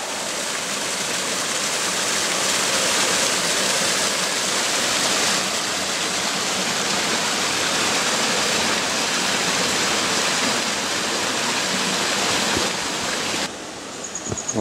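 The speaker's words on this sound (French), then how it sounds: "On est passé au-dessus de la cascade." Steady roar of a waterfall in the Vosges near Gérardmer, broadband rushing water filling the whole clip at constant loudness, with a brief dip near the end.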